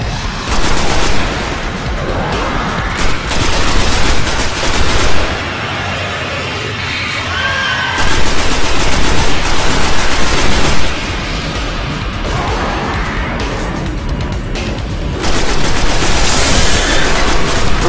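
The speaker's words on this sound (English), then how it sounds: "Put the needle gun down." Needle gun fire in the video game Destiny, a dense continuous stream of rapid automatic shots and impacts, loud and sustained throughout with only brief lulls.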